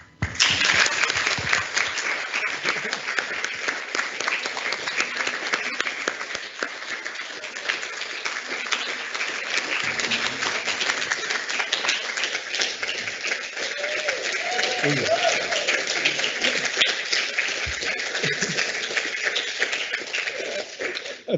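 An audience claps at length during a health service excellence awards symposium after a certificate presentation, a long, steady round of applause with faint voices briefly audible partway through.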